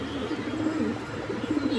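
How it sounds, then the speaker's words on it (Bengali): A pigeon in a breeder's collection coos in low, throaty pulses, close and fairly soft, repeating over a short stretch. "এই যে দেখেন কবুতর"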